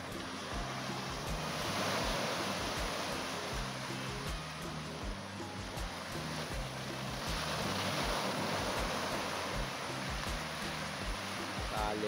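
A constant wash of surf and wind on a Ratnagiri village seashore rolls on throughout, steady and fairly distant, with a low engine-like rumble beneath and no clear voices.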